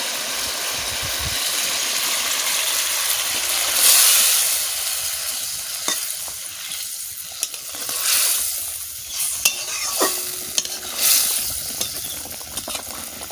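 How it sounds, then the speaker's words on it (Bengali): Rohu fish curry simmering in a pan as coconut milk is poured in, a steady bubbling sizzle with occasional stirring scrapes and small clinks, close and fairly loud throughout. "একদম ঝোল টানিয়ে গেছে এবারে আমি নারকেলের দুধটা দেবো"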